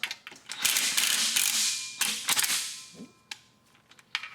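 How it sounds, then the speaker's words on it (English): Loosening the last transmission bolt with a ratchet during engine removal in a garage: sharp metallic ratcheting clicks and creaks in short close bursts, with a few isolated knocks and no talking. "So this is the very last bolt I have to loosen."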